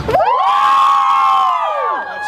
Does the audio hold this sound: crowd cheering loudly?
yes